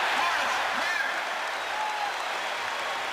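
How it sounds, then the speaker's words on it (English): A basketball arena crowd at a Bulls versus Lakers game roars and applauds in a dense, sustained wash of cheering, with a commentator's voice faintly under the noise. "Listen to this crowd here. There's the score, and you hear the roar."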